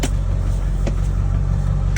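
A Ford F-250 pickup truck engine runs steadily with a low rumble throughout, a few brief clicks or knocks breaking through the continuous road noise.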